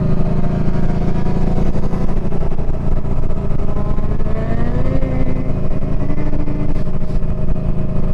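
A Yamaha VStar 1300 Deluxe cruiser motorcycle rumbles along on a ride, a loud continuous low engine drone with wind noise and slight pitch rises as it accelerates, no voices.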